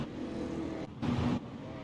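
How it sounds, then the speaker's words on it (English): A pace car laps a short track during a Super Late Models race at South Boston, its engine a steady drone with a brief louder swell as it passes nearby. "And the pace car back out on track, making laps"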